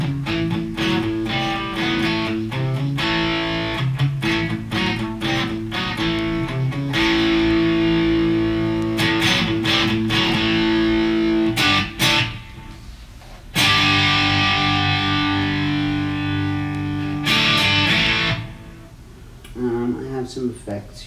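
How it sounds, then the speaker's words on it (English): Chunky, distorted electric guitar chugs in tight muted bursts with sustained ringing chords between, broken by brief pauses and some talk. "Turn the distortion up, it'll give me a little different effect."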